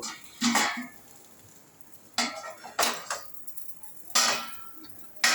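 Metal lid set onto a pan of cabbage cooking over lowered heat: several sharp clinks and clatters spaced by quiet pauses, close and fairly loud, with no talking.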